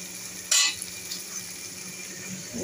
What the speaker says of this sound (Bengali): এবার এর মধ্যে আমি এই ভাজা বেগুনটা দিয়ে দেবো।